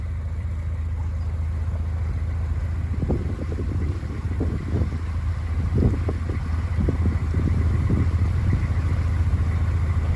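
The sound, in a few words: wind blowing on the river, wind noise on microphone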